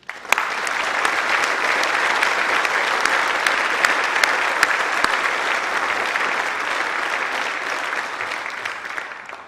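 A large assembly at the Church of England General Synod in July 2022 applauds continuously, a full, steady wash of clapping that holds for several seconds before tapering at the end.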